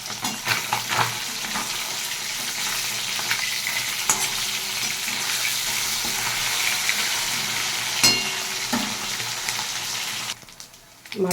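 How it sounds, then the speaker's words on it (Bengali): Fish fry in plenty of hot oil, giving a continuous, even sizzle with occasional sharper crackles and pops that runs for several seconds before stopping abruptly. "মাছগুলো সব এক এক করে ভেজে উঠিয়ে দেবো।"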